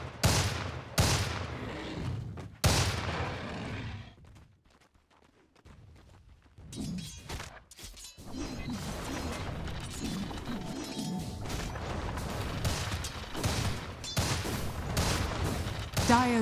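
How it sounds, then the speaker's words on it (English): Fighting at the Dire bottom tower in Dota 2: sharp smashing hits and crashing bursts, then a short lull, then steady volleys of impacts and clatter, with a voice heard briefly. "Dire's bottom tower is under attack."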